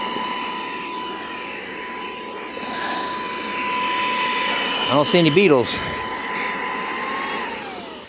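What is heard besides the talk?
handheld beetle vacuum running at beehive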